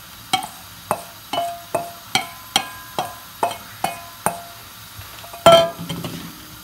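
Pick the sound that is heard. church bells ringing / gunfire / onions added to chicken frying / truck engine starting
onions added to chicken frying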